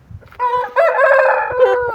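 A rooster crows loud and close, one long rising call that holds its harmonic tone for over a second, with brief clucking before it.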